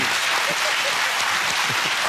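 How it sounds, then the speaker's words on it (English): A television game show studio audience claps in a short, dense burst of applause after a contestant answers correctly, steady and loud for the whole moment. "Give him a round of applause."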